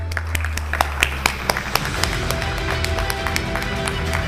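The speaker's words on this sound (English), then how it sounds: "if you want us to clap more for you, you'll have to join in the clapping right now" Steady applause and clapping from an audience in a conference hall at a summit, dense overlapping hand claps with a few sharper close claps near the start, carrying on throughout.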